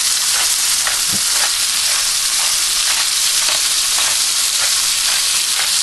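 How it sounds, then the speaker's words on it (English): Pot roast meat searing in a hot pan before going into a crock pot: a loud, dense, steady sizzle close up, with faint rhythmic pops and no voices. "we're going to quickly sear"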